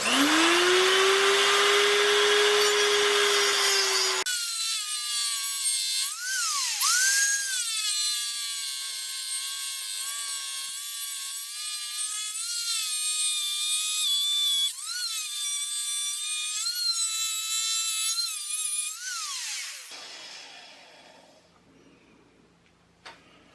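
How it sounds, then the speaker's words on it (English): An angle grinder grinds black paint off a motorcycle frame with a loud, sustained high whine that wavers in pitch as the wheel is pressed against the metal, then winds down near the end. "I just grinded all the black off."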